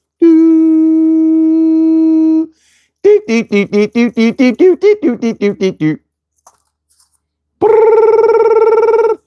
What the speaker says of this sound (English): regular phone, regular ring, no music, no answer tones